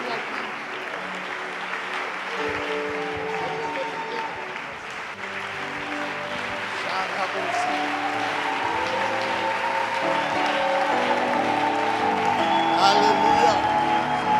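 A church congregation applauds during a service, sustained clapping rising gradually louder over fourteen seconds, with music and a speaking voice carrying over the crowd.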